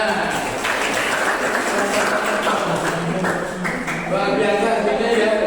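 Classroom applause from students in a teaching-practice history lesson, a dense, steady clatter of many hands clapping throughout, with voices mixed in underneath.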